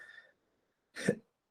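A single short, sharp sneeze bursts out after a moment of quiet, close but fairly soft, preceded by a faint trailing voice.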